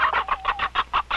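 A hen clucks in a steady run of about eight short, loud, close calls evenly spaced, with no talk over them.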